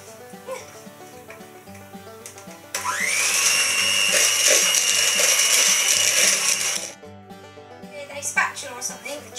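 An electric hand mixer whirs steadily as it beats red velvet batter in a bowl, a loud, close, continuous buzz lasting several seconds between quieter moments with someone talking around it.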